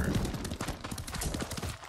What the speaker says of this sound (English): Where's my horse? Come on, boy.